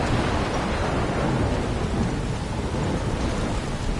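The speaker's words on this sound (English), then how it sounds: "I'm trapped in a storm?" A thunderstorm in the video game Life is Strange, with heavy rain pouring continuously and thunder rumbling loudly, a dense, unbroken roar with no voices.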